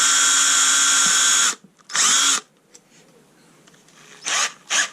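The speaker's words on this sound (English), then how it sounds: "I'm just going to drill some 6mm holes to start with" A cordless drill bores 6mm holes, its motor whining steadily at high pitch for a second and a half, then a second short burst, followed by two brief quick bursts after a quiet pause.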